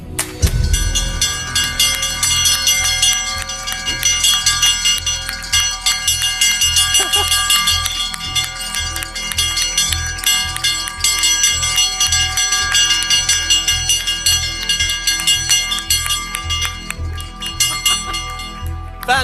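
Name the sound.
Nasdaq opening bell ringing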